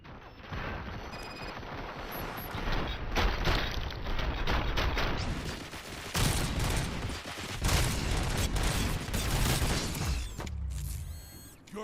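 Gunfire in the Robocop: Rogue City video game comes as a dense, continuous barrage of rapid shots and mechanical clatter, loud and sustained for most of the stretch before a short drop near the end, with no voices.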